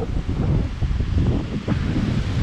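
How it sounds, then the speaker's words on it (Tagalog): Strong ocean waves at a sandy beach in South Luzon, Philippines, a steady broad wash of surf mixed with wind buffeting the microphone, loud and continuous with no talk. "Malakas alon."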